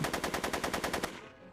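Rapid gunshots in Back to the Future: The Game, a loud, evenly spaced automatic burst of about a dozen shots that stops and fades out.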